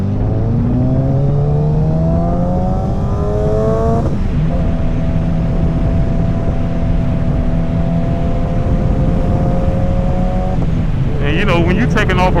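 A Suzuki Hayabusa sport motorcycle engine revs up through rising gears as it pulls away from a traffic light, loud and close, with steady road and wind noise underneath.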